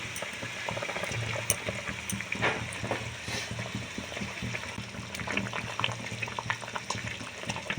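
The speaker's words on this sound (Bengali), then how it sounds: "ঝোলটা খুব ভালোভাবে ফুটে গিয়েছে দেখতে পাচ্ছ" Mustard fish curry broth boils in a pan, a continuous close bubbling and gurgling with small pops scattered through it, steady and unbroken with no talk.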